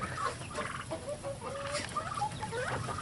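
Chickens in a backyard coop in Minnesota, including a young rooster that puffs up, keep up a soft, steady chorus of clucks, chirps and gobbling calls from several birds at once. No one speaks over them.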